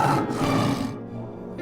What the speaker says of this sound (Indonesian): itu seperti suara ngaungan harimau